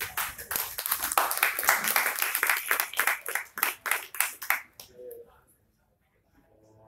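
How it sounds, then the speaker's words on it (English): Audience applause at a live design discourse event, a dense burst of many hands clapping that builds, holds, then thins into scattered claps and stops, leaving near silence before faint sound resumes. "please give applause the last group"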